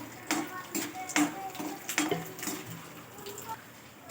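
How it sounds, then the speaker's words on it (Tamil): Mustard seeds and chana dal frying in a pan give off scattered sharp pops and clicks, with a few metallic scrapes and clinks of a spoon against the pan, close and fairly quiet. "கடுகு பொரிஞ்சிடுச்சு, கடலைப்பருப்பு போடு. பருப்பு நல்லா பொரிஞ்சதும்"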